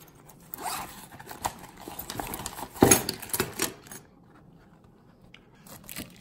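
A small accessory bag packed inside a Flashforge Dreamer NX 3D printer box is unzipped nearby, a series of quick zipper rasps and rustles peaking midway, then fading to near silence.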